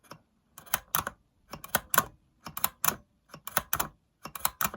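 Plunger on a Panasonic RQ-830S 8-track player being pressed repeatedly to change tracks, a series of sharp plastic clicks and clunks in quick clusters, close and alone.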